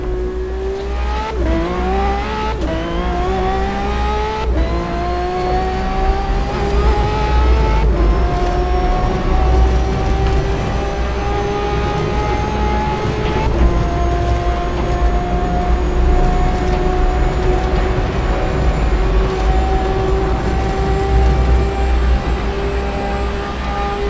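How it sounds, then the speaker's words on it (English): A loud, continuous race car engine in Assetto Corsa at Monza 1966 revs up and up through repeated gear shifts, pitch climbing steadily as it accelerates hard, with no talking. "I'll stop my commentary once I get going and let you hear this engine"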